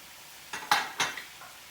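Zucchini and peppers hit a pan for peperonata, giving a few short bursts of scraping and sizzling stirs close by, with no talking.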